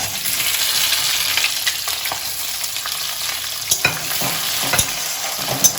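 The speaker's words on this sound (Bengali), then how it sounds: "রসুনটা দিয়ে দিলাম, আর সাথে পেঁয়াজগুলো দিয়ে দিলাম" Garlic and onions drop into hot tempering oil for a dried lote fish chachchari, setting off a loud, steady close sizzle with occasional sharp ticks and spoon clinks against the pan.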